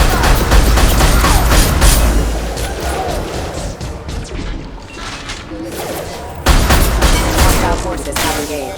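Rapid gunfire and booming blasts from a sci-fi shooter battle in Mass Effect, loud and dense throughout, with a brief lull in the middle before the shooting picks up again.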